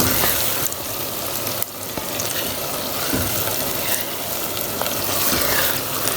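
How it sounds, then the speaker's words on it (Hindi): Garlic ginger paste and onions fry in a clay handi pot, giving a loud, continuous sizzle with occasional stirring knocks and scrapes close by. "क्योंकि हमारा लहसुन और अदरक का पेस्ट भी फ्राई हो जाएगा और साथ में प्याज भी हो जाएगी।"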